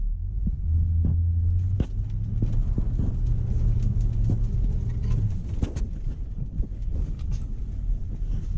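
A Corvette on worn, junk tires climbs an icy hill, its engine a steady low rumble with a sustained drone through most of the run, fading into road and wind noise near the end.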